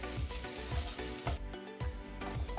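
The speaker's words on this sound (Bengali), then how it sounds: "নারকেলটা আমার ভালো মতন ভাজা হয়ে গেছে, পুরো লাল লাল করে ভাজা হয়ে গেছে।" Grated coconut frying in a pan for a begun bahar dish gives a soft, steady sizzle, broken by regular scraping strokes of stirring, with no talking.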